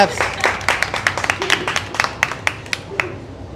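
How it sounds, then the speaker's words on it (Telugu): A small group claps at a restaurant gathering, a burst of irregular, close hand claps lasting a few seconds, with voices talking underneath. "క్లాప్స్."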